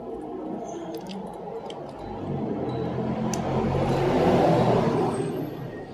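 A vehicle approaches and passes nearby as a broad rumbling road noise that swells steadily and peaks before easing slightly, heard alone.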